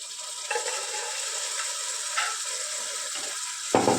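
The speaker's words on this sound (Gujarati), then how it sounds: "દહીં નાખી ફટાફટ હલાવી નાખવાનું" Fenugreek seeds and curd are stirred quickly in a pan, producing rapid scraping and ratcheting spoon strokes with a soft background sizzle, plus a sharper clatter near the end.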